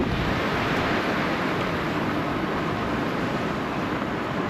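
Loud, steady roar of strong wind buffeting the microphone while cycling uphill in Spain, a constant broadband rush with no pauses and no voices.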